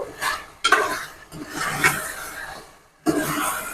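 Chicken frying in a pan with ginger gives a soft sizzle broken by bursts of stirring and clattering metal against the pan, with short pauses in between and no talking.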